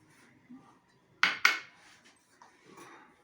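A spoon stirs macaroni soup in a pot, making two sharp metallic clanks against the rim in quick succession amid quiet scraping and faint bubbling.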